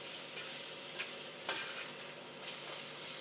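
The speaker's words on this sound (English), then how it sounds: "So while this is sauteing" Fresh sage sautés in a pan for cornbread dressing, a faint, even sizzle with a few soft stirring clicks and no voices.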